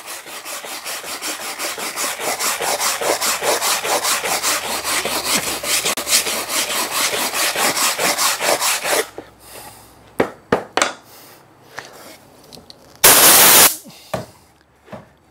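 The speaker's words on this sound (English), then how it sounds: "you can use a wire brush, which will remove" A wire brush scrubs a hardwood surface for burnt texturing, making rhythmic back-and-forth scraping strokes for about nine seconds. A few separate scrapes and a short, loud rasping burst follow.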